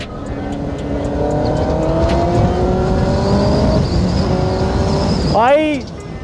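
Kawasaki ZX10R sport bike engine pulling hard under acceleration, a loud rising roar with stepped pitch climbs through the gears, close to the rider, ending in a sharp high rev swell, with wind noise throughout.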